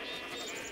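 Sheep bleating in the Minecraft Tekkit modpack while being sheared for wool, a single short, fairly faint game bleat with a steady wavering tone and no other sound.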